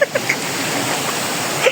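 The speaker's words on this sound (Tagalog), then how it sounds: "mabuhay nang naririnig ko ang daloy ng tubig" A steady, broad rush of water from Hulugan Falls waterfall fills the short stretch, with brief faint voice-like sounds at the start and end.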